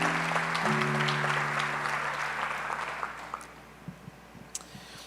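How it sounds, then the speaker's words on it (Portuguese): A church congregation applauds at the close of a reading, a dense burst of clapping that starts loud and fades out over a few seconds, with a sustained organ or keyboard chord beneath and a few scattered final claps. "Você pode aplaudir a Deus pela palavra?"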